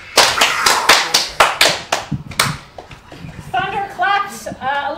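Hands clap in a quick burst of about eight sharp, close claps, a voice imitating thunder for an improvised radio drama, followed by people talking and laughing.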